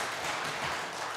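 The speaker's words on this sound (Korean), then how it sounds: "하나님께 영광의 박수 함께 드리겠습니다" A church congregation at a Korean Sunday worship service fills the room with dense, even applause, a continuous wash of clapping with no break.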